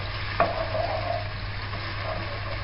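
Chopped onion for vegetable samosa filling fries over fairly high heat in a pan, giving a steady, even sizzle throughout, with a single sharp clack of a spoon or onion hitting the pan near the start.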